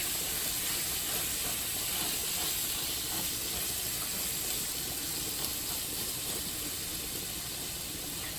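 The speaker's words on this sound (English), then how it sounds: "And the sizzling is fine." Steady, loud sizzling and hissing from meatloaf frying in a hot cast iron pan, continuous throughout with no talking.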